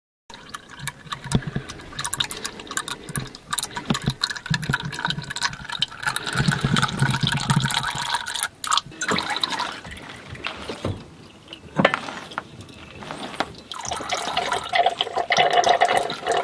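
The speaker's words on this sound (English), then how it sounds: "I will try to show you how the oil will drip when we turn the wheel" Power steering oil drips and trickles from an opened drain plug on a Mercedes-Benz W124 while the steering wheel is turned, a steady liquid splatter with occasional louder bursts, close by and without talk.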